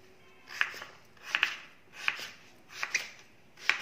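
A knife cutting pumpkin pieces for sambar on a board, five or six crisp chops in a steady rhythm, some doubled, close and fairly quiet with no talk.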